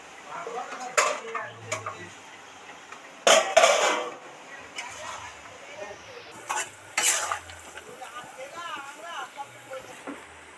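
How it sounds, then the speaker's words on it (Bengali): A vegetarian cucumber curry with lentil dumplings simmers in a wok, giving a soft bubbling bed broken by a few loud utensil clanks and stirring scrapes close by. "এদিকে ভিতরের কড়াতে তো তরকারি টুকবুক টুকবুক করে ফুটছে"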